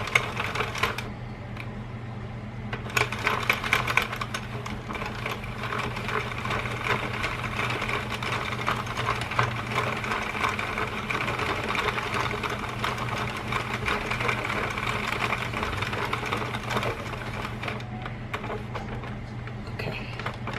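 A knitting machine set to medium tension runs its carriage back and forth for five rows, a steady mechanical clatter and whir that continues for the full stretch without pause.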